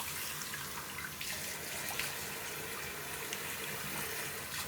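Tap water runs steadily from a faucet as a clay face mask is washed off at a sink, a continuous close hiss with faint splashes and no talking.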